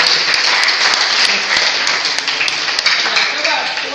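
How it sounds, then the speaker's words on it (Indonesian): Classroom applause from students in a heavy-equipment engineering lesson, a dense, loud burst of clapping that holds steady for a few seconds, with a voice faintly present underneath. "Tepuk tangan."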